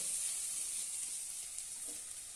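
Okra cooks in a pan with a faint, steady high sizzle and hiss throughout, quiet and unbroken, with a light stir or clink near the end.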